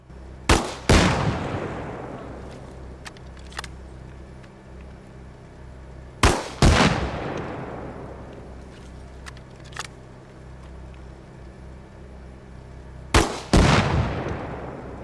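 Three heavy 40mm grenade impacts on an LAV in the Arma Reforger video game, each a loud close blast with a long rumbling decay, spaced several seconds apart with faint clicks between.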